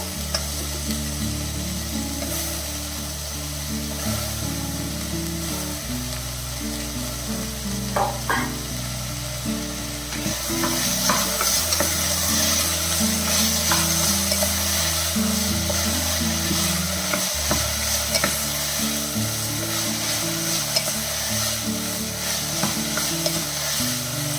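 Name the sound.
cauliflower added and stir-fried in a pan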